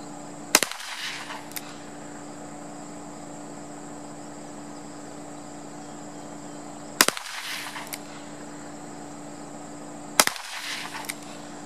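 A Ruger GP100 .357 Magnum revolver firing 180 grain rounds outdoors: three sharp, loud single shots spaced several seconds apart, each with a short echo, over a steady background of insect chirping.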